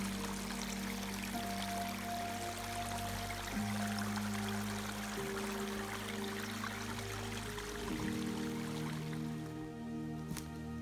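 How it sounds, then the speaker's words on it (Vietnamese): A forest stream flows steadily in a Swedish woodland, a constant close wash of water with a low hum running beneath it and a faint click near the end, with no talking. "Đây có con suối nè, đậy trong rừng."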